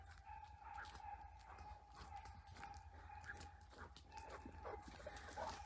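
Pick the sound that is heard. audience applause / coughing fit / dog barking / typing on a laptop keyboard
dog barking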